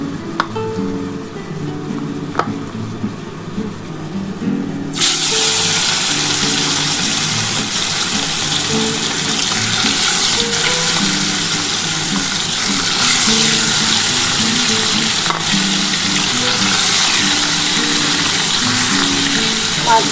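Small mourala sea fish go into hot oil in a pan: quieter background with scattered clinks, then a sudden loud burst of sizzling that continues strongly, close and steady.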